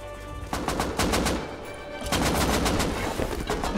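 Rapid gunfire in the survival video game Rust, AK-style automatic bursts of close shots running through the whole stretch with a brief lull in the middle, loud and alone without talk.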